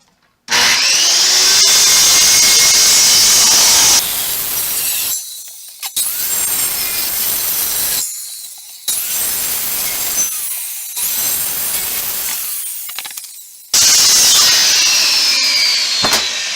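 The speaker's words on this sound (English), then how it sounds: "I've never cut flower pot with a saw blade before." A saw blade grinds through a plastic flower pot in long, loud, continuous passes broken by short pauses, with a harsh whine that sits close and fills the whole stretch.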